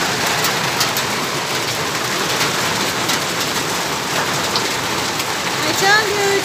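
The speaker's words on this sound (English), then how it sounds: "Oh, you can hear the thunderstorms." Steady, heavy thunderstorm rain pours down continuously in a village in Kisii, Kenya, a dense hiss of drops on surfaces with no voices.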